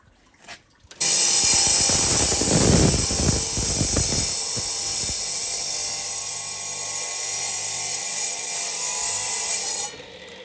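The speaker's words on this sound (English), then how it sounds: "Now with a grinder, a 4-inch grinder, we're going to cut through from this side" A 4-inch angle grinder spins up with a sudden loud whine and bites into a concrete step, giving a harsh, gritty roar that stays steady and close for about nine seconds before shutting off.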